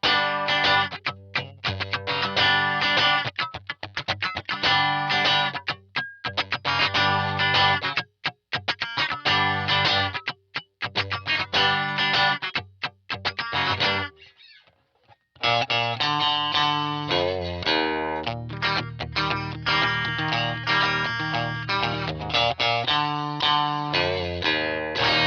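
Fender MIM Jag-Stang electric guitar with its pickups set opposite ways, played continuously through effects with a thick, distorted, chorused tone, stopping briefly midway before resuming, loud and without talk.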